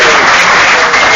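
An audience at an AA speaker conference bursts into loud, dense applause for a birthday announcement, a brief close burst of many hands clapping.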